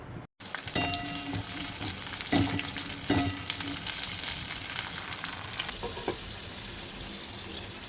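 Capsicum stirred and fried in hot oil, with a constant close sizzle broken by several sharp clanks and scrapes of a spatula against the pan.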